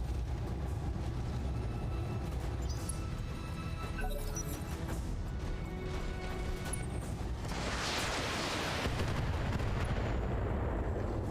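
Mech weapons in Battletech fire on a target in a loud, continuous barrage of gunfire and heavy blasts, with a broad crashing impact swelling near the end.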